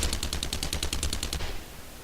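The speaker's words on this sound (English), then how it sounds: "pick up a gun and shoot him" Rapid automatic gunfire in the survival video game 7 Days to Die, a steady burst of about a dozen evenly spaced shots that stops partway through, leaving low background noise.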